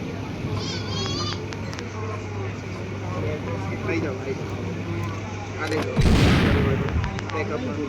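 Video game bombs and gunfire during a tournament match: a steady low rumble with scattered sharp shots, then a loud explosive burst about three-quarters through, all under ongoing talk.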